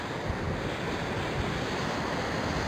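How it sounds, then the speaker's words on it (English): Steady sea breeze and breaking surf at a small beach near an old shipwreck site, a continuous broadband wash of wind and waves with gusty low rumble and no voices. "sea breeze has picked up"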